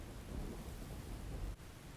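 A thunderstorm rumbles as a sound effect for a children's story, a low, heavy roll of thunder over steady rain hiss that briefly dips and then continues, with no speech.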